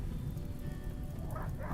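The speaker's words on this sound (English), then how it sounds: "Oh, here's the rain. Here comes rain." Steady rain in a colony survival video game, a continuous soft wash of falling drops that swells louder near the end, with no talk over it.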